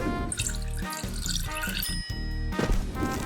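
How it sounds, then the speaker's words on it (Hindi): Water runs from a kitchen tap into a sink in a steady splashing stream, fairly close, with a few clinks and brief interruptions of the flow, no talking. "मैं पानी निकालता हूँ।"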